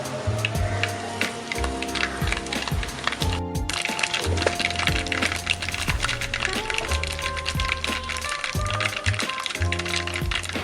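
Fenugreek and mustard seeds crackle in hot oil for a Kerala-style sardine curry, a dense close patter of sharp pops and spits with clattering utensil sounds over a steady sizzle.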